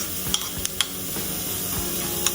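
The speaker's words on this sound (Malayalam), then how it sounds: "ഉപ്പിട്ട് നമുക്ക് ഉള്ളി ഇടാം മഷ്റൂം ഇടാം കുറച്ച് മഷ്റൂം" Onion and mushroom sauté with salt in a hot pan, a dense continuous sizzle with a few sharp spatula clicks against the pan.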